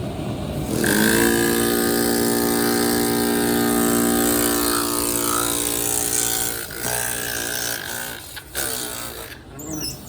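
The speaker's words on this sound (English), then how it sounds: "now I'm going to take my drill" A motorized hand drill boring into stone whines with a steady, buzzing tone for several seconds, then sputters and slows unevenly near the end.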